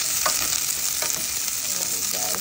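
Onion, ginger and chili labuyo sauté in a very hot pan for ginataang kalabasa, sizzling loudly and steadily while a utensil stirs with a few scraping clinks.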